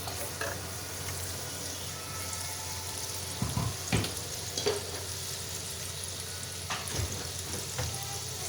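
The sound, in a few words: onion paste with garlic and ginger frying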